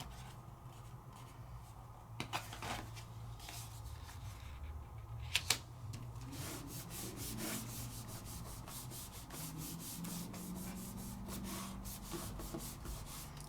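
A hand rubs across a wet gouache stamping surface in a craft session, producing soft, close, continuous scraping and rubbing strokes with a few sharp taps early on.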